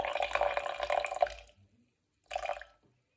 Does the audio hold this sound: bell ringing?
no